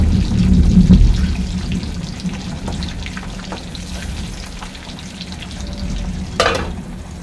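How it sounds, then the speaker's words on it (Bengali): Eggs fry in a pan with a continuous close sizzle, loudest at the start, then easing to a steady crackle with a brief clatter near the end. "ডিমগুলো ভাজা হয়ে গেছে"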